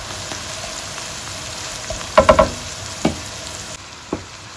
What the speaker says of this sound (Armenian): Սոխի վրա ավելացրի կավարի ոչ շատ յուղոտ միսը և հիմա կտապակեմ մինչև պատրաստ լինի